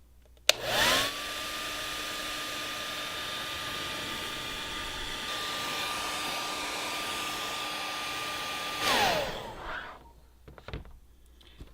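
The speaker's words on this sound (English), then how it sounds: "using either your heat gun or your hairdryer, add heat to the seam for another 10 to 20 seconds" Heat gun or hair dryer blowing hot air onto the seam of a broken headlight tab repair, switching on with a click into a steady whining hum that holds for about eight seconds, then winds down and stops.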